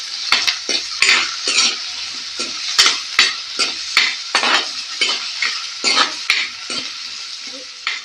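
Chopped onions sautéing in a pan for a Kerala-style onion curry, with rhythmic spoon scrapes and stirring over a soft sizzle, close and loud, with no talk.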